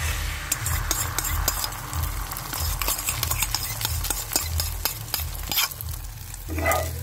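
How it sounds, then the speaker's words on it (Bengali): An egg fries in hot oil in a home kitchen pan, giving a steady close sizzle with scattered crackles and pops throughout, and a louder burst of hiss near the end. "ডিমটা একটু ভেজে নেব।"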